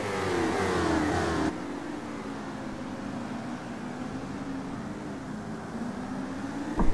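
GT race cars roar past in a pack at Spa, engines revving and shifting in overlapping waves, with a sharp cut to a steadier engine drone and a rising whine near the end.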